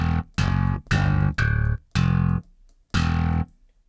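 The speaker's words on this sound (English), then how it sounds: "you've got grit, which is kind of like your typical distortion tone" A gritty, distorted bass guitar from the Submission Audio OmniBass plugin plays five separate sustained notes with brief gaps between them, loud and close, with no talking.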